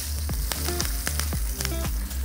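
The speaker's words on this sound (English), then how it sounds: "Take our pan just under a smoke and we'll add our fish to it." Fish hitting a pan heated just short of smoking, a steady close sizzle broken by repeated clanks and scrapes as it is pressed down for contact, with no voices.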